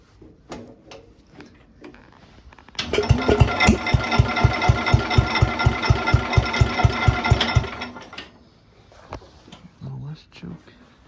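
An old Cub tractor engine, powered through a battery clamped with vise grips, cranks and catches, then runs with a loud, rapid, even chugging for about five seconds before dying away, with a voice talking faintly around it.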